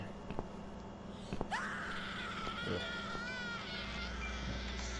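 A shrill, wavering scream rises and holds in the horror game The Cat Lady, sounding over a low droning ambience with faint clicks and a short gasp-like breath.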